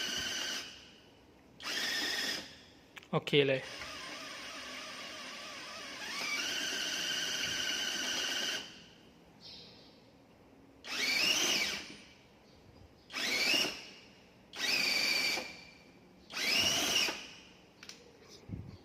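A power drill whirs in repeated short bursts, spinning a NEMA 23 cycloidal gear motor for a robot arm joint, each a high-pitched motor whine that starts and stops, with one longer run and a brief spoken word.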